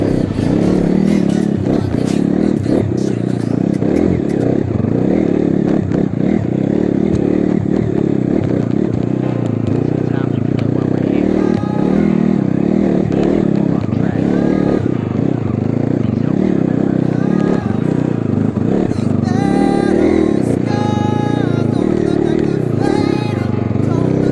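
A motorcycle grinds steadily up a long, steep off-road trail, crossing between water-cut ruts, its engine droning continuously with clattering and scraping over rough ground while someone talks over it throughout.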